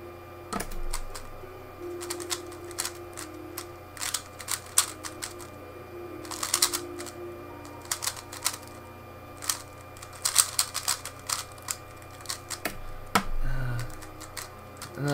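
A Valk Power speed cube being turned, rapid bursts of light plastic clicking and clacking in irregular clusters, fairly close and moderately quiet, with no speech.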